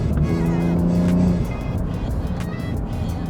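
A 2025 Alfa Romeo Giulia Quadrifoglio with an 8-speed gearbox on a track lap: a loud, close engine note climbs and then breaks off at a gear change, settling into a steady drone.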